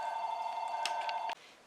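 A telephone rings in a home as a steady electronic tone that sounds for over a second and then cuts off abruptly, with faint clicks near the end and quiet room tone afterward.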